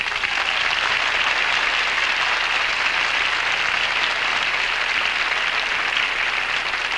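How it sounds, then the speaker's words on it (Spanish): A crowd at the Miss Sudamerica 1986 beauty pageant applauds, a dense, even wash of clapping that holds steady throughout without any voices rising above it. "Le damos un amistoso aplauso."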